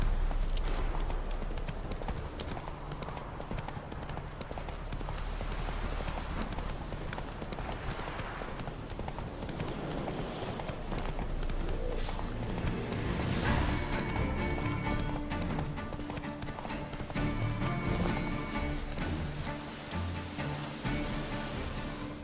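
Roach, the horse in the video game Witcher 3, gallops steadily with rapid, rhythmic clip-clopping hooves that carry on for the whole stretch over a constant ambient game backdrop.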